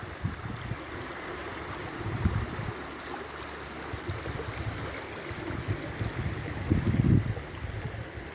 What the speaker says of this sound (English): listen to the sound of the trickling water